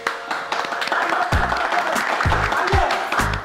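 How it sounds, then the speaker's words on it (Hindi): Studio audience applause for a character in a Pakistani comedy drama scene, a dense steady wash of clapping carried over background music with recurring low thumps throughout. "आप मिर्जा साहब के लिए तालियां।"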